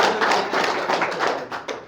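Applause at a gathering of a primary agricultural credit cooperative society, clapping with distinct sharp taps in an uneven rhythm, fairly close and fading toward the end.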